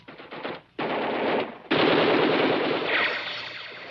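Sustained machine gun fire in a 1964 war film, loud and close, coming in long rattling bursts with brief gaps between them and no talk over it.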